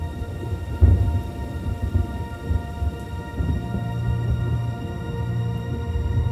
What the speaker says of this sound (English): It was a dark and stormy night, 1962 Anno Domini, when Professor Calvin Lee